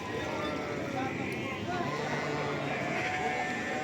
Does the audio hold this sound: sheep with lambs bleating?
yes